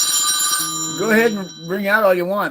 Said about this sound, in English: I'm not going to answer the phone.